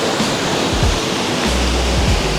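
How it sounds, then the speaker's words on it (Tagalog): Powerful waterfall at Pinlac Falls in Infanta, Quezon, a loud, continuous broadband roar of cold falling water heard up close, steady throughout with no voices. "sobrang lakas ng bagsak ng tubig"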